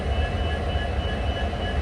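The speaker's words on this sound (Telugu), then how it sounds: "సో ఇప్పుడైతే ఏదో ట్రైన్ వస్తుంది" A diesel-hauled train draws near a closed level crossing, giving a steady, close rumble with faint tonal hums, continuous for under two seconds with no voices.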